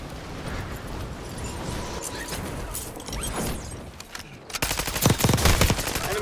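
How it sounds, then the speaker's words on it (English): Gunfire in the Call of Duty video game, with sustained automatic bursts that grow louder and denser near the end, where sharp rapid shots crackle over a busy battle din. "Taking effective fire!"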